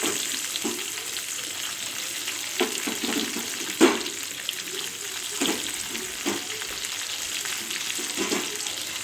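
Onions frying in a pan for a paneer dish give a steady close sizzle, broken now and then by soft scrapes and knocks of stirring, with no talk.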